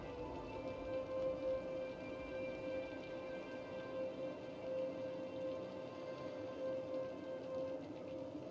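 Continuous steady rain from the video game Cities: Skylines patters on a surface with a faint tonal hum underneath, no voices.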